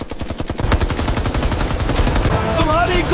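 Rapid bursts of automatic gunfire crackle through a loud action film battle around a ship, dense and continuous, with shouted dialogue and other sounds underneath.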